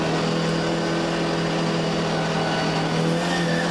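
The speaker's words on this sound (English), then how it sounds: "You can just listen to the car coming out of the corner" An MGB race car with a 4-1 differential accelerates out of a corner at Snetterton circuit. Its engine drones steadily and loudly throughout, with a low hum and no voices.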